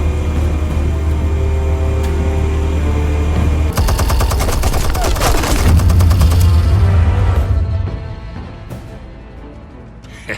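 Automatic weapons fire rattles in rapid, loud bursts during a Batman: The Telltale Series action scene, backed by a low rumbling bed. The shooting swells in the middle, then fades to a quieter tail with no speech.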